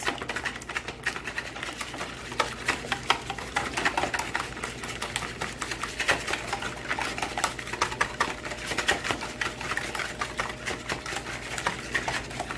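Eggs being beaten in a bowl with a fork or whisk for naan bread French toast, a fast, steady clatter of rapid taps continuing without pause at close range.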